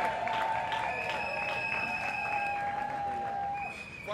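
A church congregation applauds and cheers in praise, a dense, steady wash of clapping and voices that holds throughout and eases slightly at the end.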